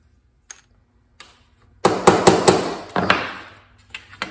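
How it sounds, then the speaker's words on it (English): A small hammer shapes aluminium sheet metal for a Zenith CH 750 Cruzer aircraft stabilizer bracket: two isolated taps, then a quick burst of sharp, ringing metallic blows close by, with no voices. "the smaller the hammer, the more you move the metal instead of just bending it"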